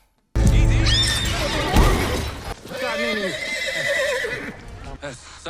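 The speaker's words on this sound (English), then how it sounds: "Sorry about my horse, man." A horse neighs loudly in a drama scene, a shrill, wavering whinny rising over voices and background sound, with people talking around it.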